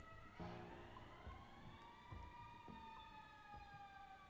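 Several emergency sirens wail outside, their rising and falling tones layered over one another and fairly distant, steady for the whole stretch under low background rumble.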